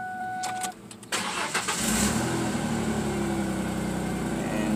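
A Ford Mustang engine cranks and catches after an alternator replacement, with a short whir of the starter followed by the engine settling into a loud, steady idle close by.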